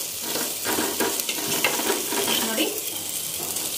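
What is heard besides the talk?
onions and curry leaves frying in oil for tempering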